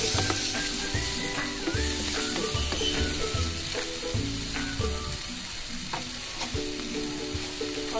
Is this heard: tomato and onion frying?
yes